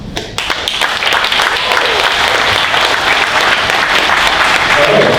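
Loud, dense applause from a summit audience for panelists, a steady wall of clapping that swells after a brief start and holds strong throughout, with faint voices mixed in.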